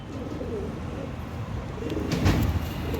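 Pigeons coo in a loft of show birds for sale, low throaty rolling calls rising in the last second, close by.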